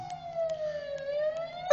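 A fire engine siren wails steadily as the fire crew pulls up to a burning car. The tone holds a continuous, slowly falling pitch at moderate distance, with a brief louder burst of noise right at the end.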